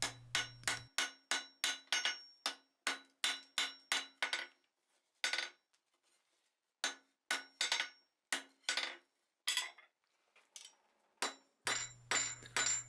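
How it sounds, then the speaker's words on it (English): Hot forging hammered on an anvil, a close, loud series of sharp ringing metallic blows in quick regular bursts, separated by short pauses and a few lighter taps. "I'm just going to dress the forging inside the anvil"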